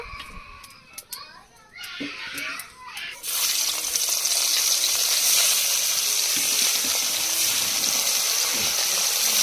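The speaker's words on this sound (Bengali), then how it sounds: "এবার মাছগুলো ভেজে নেব" Fish rubbed with salt and turmeric frying in hot oil, a loud, steady sizzle filling the clip from about three seconds in, after a quieter start with clatter and voices nearby.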